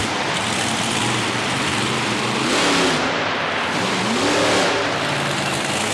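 The Chalkboard Chuck monster truck roars loudly through a freestyle run at an arena show, its engine revving in two swelling surges over a dense, constant wash of motor noise and crowd.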